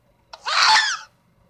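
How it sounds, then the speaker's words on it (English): A Minecraft witch scream sound effect, a single shrill, hissing shriek that rises abruptly and lasts about half a second before cutting off, loud and close over near silence. "What is that? A witch scream?"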